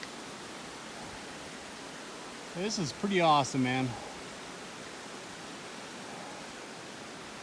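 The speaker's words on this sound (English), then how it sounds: "Here we got little waterfalls coming down." Small mountain waterfalls in the Rockies pour as a steady, broad rushing hiss that stays even throughout, with someone speaking briefly over it midway.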